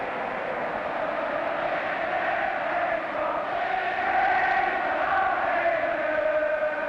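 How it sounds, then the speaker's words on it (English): A large football crowd sings at the 1968 FA Cup Final between West Bromwich Albion and Everton, a steady, distant, broad roar of massed voices that carries unbroken throughout. "It's the sort of universal song of all football supporters"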